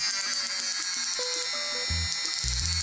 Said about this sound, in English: And the speed, you can hear the motor.